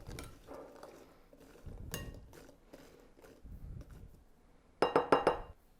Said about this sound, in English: now take your slotted spoon and make sure these are coated